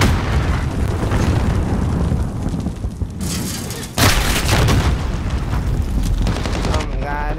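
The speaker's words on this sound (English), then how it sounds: "Watch it, babe, grenades." Grenade explosions in Call of Duty: Modern Warfare, loud booming blasts mixed with gunfire bursts, a sharp new blast cutting in midway over constant battle noise.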